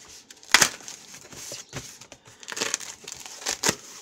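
Paper envelope packaging rustles and crinkles as it is opened and handled, giving several close, sharp crackling bursts with quiet gaps between them and no talking.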